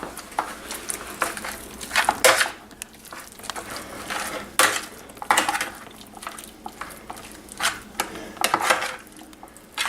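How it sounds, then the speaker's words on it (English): A spoon scrapes and clinks against a bowl while mixing dip ingredients for Reuben and Mexican dips, with irregular bursts of clatter and stirring, fairly close and alone. "So what we're gonna do, we're gonna mix all this together."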